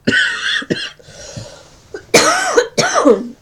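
A string of loud, close coughs, several sharp bursts with short gaps between them.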